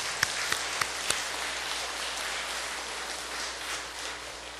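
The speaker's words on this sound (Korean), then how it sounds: "우리 한번 큰 박수로 한번 더 격려 한번 하겠습니다." A church congregation gives the choir a round of applause: a few separate claps at the start swell into a soft, steady patter of many hands, heard from a distance at low volume.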